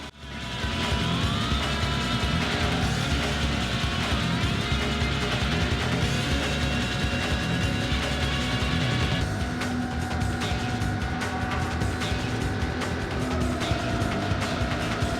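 A race car's engine drones steadily in Need for Speed 3: Hot Pursuit on the PS1, a sustained whine shifting in pitch as it accelerates and changes gear, with tire and road noise underneath and no talking.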